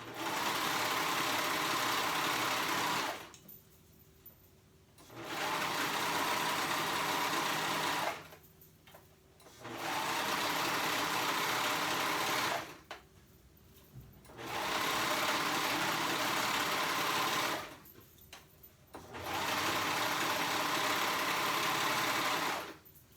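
A sewing machine runs top stitching on fabric for active shorts, its steady motor hum going in five long bursts of several seconds each with short quiet pauses between, close and without talking.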